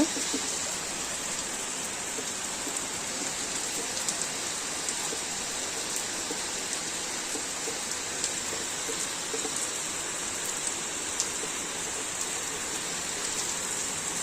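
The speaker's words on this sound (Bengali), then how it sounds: "এত জোরে ঝমঝম করে বৃষ্টি এসছিল" Heavy rain pours steadily onto a rooftop in the early morning, a dense, continuous hiss of drops that stays loud and even throughout with no voices.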